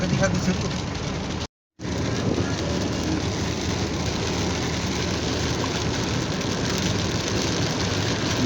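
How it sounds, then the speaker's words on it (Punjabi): Heavy rain pours down steadily in a village setting, a dense continuous roar of rain on surfaces that fills the whole stretch, interrupted once by a short silent gap. "ਉਹ ਤਾਂ ਬਹੁਤ ਜ਼ਿਆਦਾ ਮੀਂਹ ਆ"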